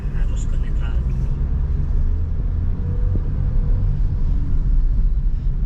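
A Suzuki Ertiga engine pulls away under acceleration, a steady low rumble running continuously beneath a voice as he talks throughout.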